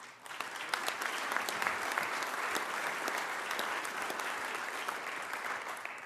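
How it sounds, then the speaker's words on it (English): A legislative chamber audience at a 2025 State of the State address claps steadily, dense and sustained applause from many hands with no voices over it. "Take the applause while you can get it."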